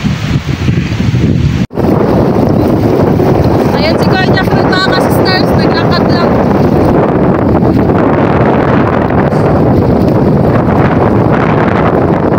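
Strong amihan wind buffets the microphone on a small boat at sea off an island, a loud steady roar with water rushing beneath throughout, and a brief dropout near the start.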